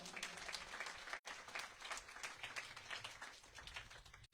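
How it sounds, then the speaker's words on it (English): An audience at the final night of a yagna gathering in St. Martin breaks into sustained applause, many hands clapping densely and evenly, with a brief dip partway through. "you all deserve a round of applause"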